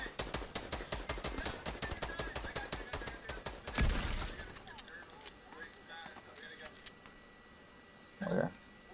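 Fortnite gunfire crackles in a fast, steady stream of sharp shots. One heavier blast cuts it off, then a short burst follows. Everything sits fairly faint, with voices murmuring underneath.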